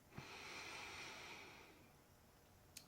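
A single long, deep inhaled breath, close and airy, swelling then fading over about two seconds, followed by a faint click.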